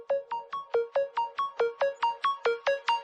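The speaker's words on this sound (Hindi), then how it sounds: "एक्सक्यूज मी, फोन आ रहा है।" A phone ringtone for an incoming call sounds alone, a rapid, steady series of about thirteen bright electronic tones repeating evenly and fairly loud and close.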